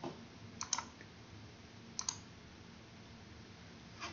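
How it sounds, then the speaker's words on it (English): Computer mouse clicks while adjusting a chart axis, a few faint, crisp clicks in quick pairs over a steady background hiss, with one more soft click near the end. "So I'll click on the x-axis, double click, click again"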